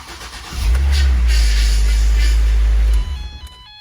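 A 2011 Ford Transit Connect engine, running rough with a misfire on cylinder 2 before a head replacement, turns over and roars into a loud, steady low rumble for about two seconds, then cuts off abruptly.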